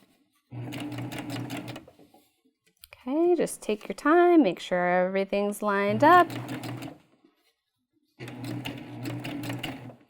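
A sewing machine runs in short rapid bursts, stitching along a folded fabric edge at close range, with a person speaking calmly between and over the runs.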